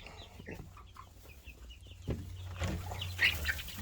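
About twenty hens in a farm coop clucking softly in short bursts, with a louder flurry of clucks near the end, close by in a quiet setting.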